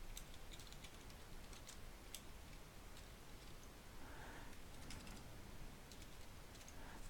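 Quiet typing on a computer keyboard while entering text into an Excel spreadsheet, soft irregular key clicks against a faint steady hiss.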